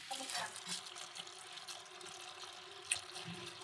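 Water runs and splashes in a sink as freshly bought items are washed before soaking overnight, a soft steady trickle with small clinks, fairly quiet and close.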